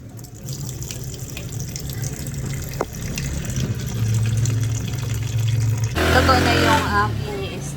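Sweet potato leaves are rinsed under a running tap, with a steady stream of water splashing into a sink and growing louder and fuller toward the end.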